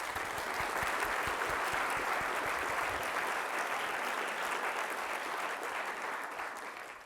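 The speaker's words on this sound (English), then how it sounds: "a round of applause for all the panelists and speakers" A conference audience applauds panelists and speakers after a keynote session on natural capital, giving steady, dense clapping that holds strong for about seven seconds before tapering slightly at the end.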